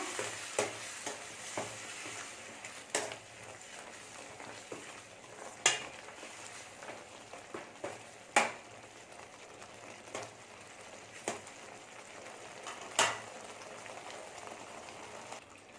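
Masala gravy with added spice powder frying and sizzling in a pan for masala kozhukattai, a soft steady crackle broken by repeated clinks and scrapes of a spoon stirring against the pan.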